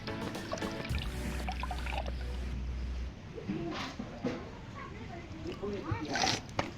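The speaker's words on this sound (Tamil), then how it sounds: "சுத்தமாக தண்ணியை வடிகட்டி எடுத்துக்கலாம்" Water pours and trickles out in a wet, sloshing stream as it is drained off washed rice, with a low hum at first and some handling clatter toward the end.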